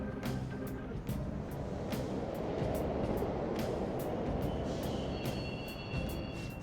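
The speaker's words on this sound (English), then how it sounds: "The trains are totally running!" Subway trains running in Persona 5 Royal: a steady low rumble and rolling rail noise fills the space, with faint clicks and a rising squeal near the end, no voices.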